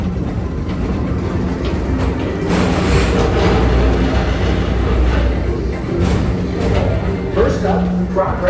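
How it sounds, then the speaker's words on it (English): The Magic Kingdom PeopleMover ride train rolls along its track at night, a steady close rumble with a low hum and light clattering that continues throughout, with people talking over it. "Don't worry, your express train keeps on rolling through the future"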